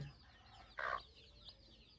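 A hen with twelve newly hatched chicks gives a single short, faint cluck in an otherwise quiet space.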